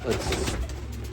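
Pigeons coo softly and continuously in a home loft holding young birds and eggs, a low steady murmur of several birds close by with no other sounds standing out.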